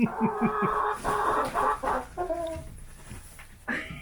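Chickens cluck in short bursts on a homestead, several birds close by, with a louder squawk near the end; no talking.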